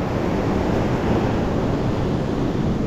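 Storm surf breaks on a beach in Crimea, a dense, continuous roar of wash and wind with no pause, heard close and loud.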